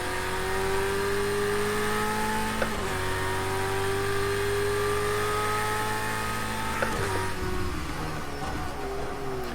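Race car engine in a racing sim, a steady high whining drone that drops sharply with two upshifts, close and continuous with no talk.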